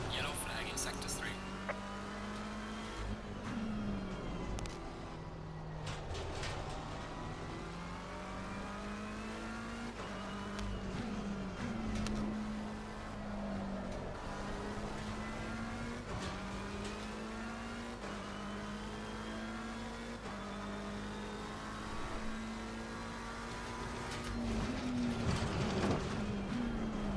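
A race car laps a circuit in Assetto Corsa Competizione, its engine droning steadily and rising in pitch through each gear, dipping on shifts and braking, loud and continuous for the whole stretch with a faint voice in the background.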